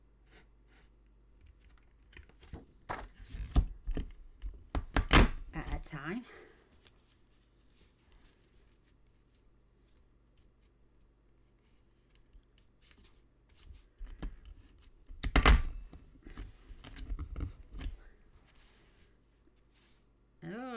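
A craft punch cuts through photo paper in several sharp, close clicks and crunches, grouped in two bursts with quiet gaps between, while a person talks briefly nearby.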